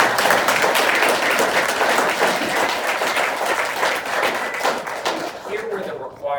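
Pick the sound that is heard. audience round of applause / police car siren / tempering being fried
audience round of applause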